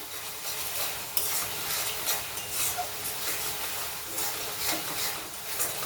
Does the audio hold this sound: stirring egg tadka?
yes